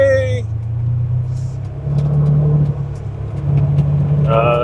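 Quad bike engines rumble and rev in a steady low drone, rising and falling in bursts, fairly close, with people talking briefly at the start and end.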